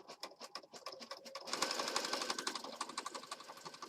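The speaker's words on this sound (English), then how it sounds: "we're going to do a zigzag stitch across the top here" Sewing machine zigzag stitching with regular thread and needle through three layers of notebook paper for a junk journal, a quiet rapid mechanical chatter of needle strokes that speeds up into a steady buzz.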